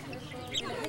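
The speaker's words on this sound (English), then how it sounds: "Say hi, chicken." A chicken at a petting zoo gives a brief, faint cluck against quiet outdoor background noise.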